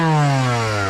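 Yamaha YZ125 two-stroke race engine revving, a loud, close, buzzy pitch falling off quickly after a sharp throttle blip, very brief with no talking.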